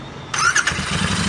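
A new 650cc motorcycle cranks with a brief starter whine and squeal, then catches and settles into a low, steady idle, close up and alone.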